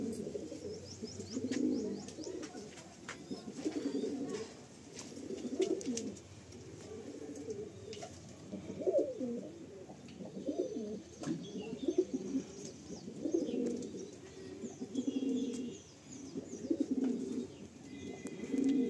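Pigeons coo in repeated soft, throaty phrases while being handled. The calls rise and fall in a steady rhythm and sound close but quiet, with faint chirps and no talking.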